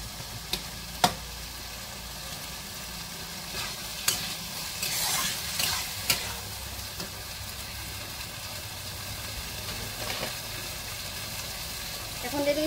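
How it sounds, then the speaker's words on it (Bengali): Fried potatoes and banana flower cook with spices in a pan, with a low steady sizzle and repeated sharp scraping taps of a spatula stirring, close and moderately loud. "ভেজে রাখা আলু, আর মোচার সাথে মশলাটাকে আরেকটু আমি কষিয়ে নেব"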